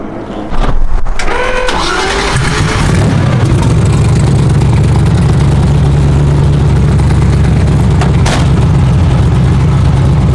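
A BMW M3 engine is revved hard and then settles into a loud, deep, steady running drone, close by.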